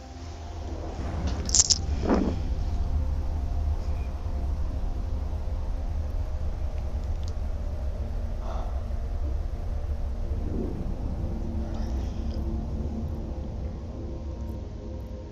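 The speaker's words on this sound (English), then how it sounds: "Warp drive active." A spaceship's warp drive in EVE Online during a Sisters of EVE arc mission: a steady, loud low rumbling drone that holds for the whole stretch, with a brief sharp click near the start.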